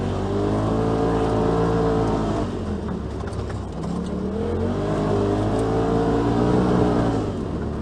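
A 2018 Polaris RZR XP Turbo side-by-side drives out on a trail, its turbocharged engine loud and close, rising and falling in pitch as it accelerates, shifts and revs again, with no talk.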